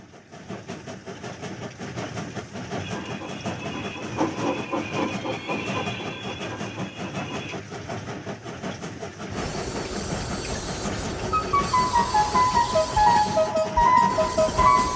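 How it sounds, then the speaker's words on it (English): A runaway Hornby model train rolls along its track with a steady rattling rumble and hiss, building louder toward the end as bright metallic squeals and clicks ring out over the wheels. "It's a runaway train!"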